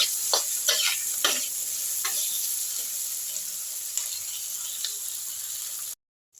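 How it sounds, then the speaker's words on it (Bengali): Potatoes and onions fry in oil with a little turmeric in a pan, giving a steady close sizzle broken by a few scraping stirs before the sound cuts off abruptly near the end. "এবার আমি আলু পেঁয়াজটা একটু লাল লাল করে আগে ভেজে নেব"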